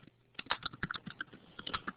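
Rapid clicking keystrokes on a keyboard in a classroom, a quick irregular run of light taps at moderate level with no talk.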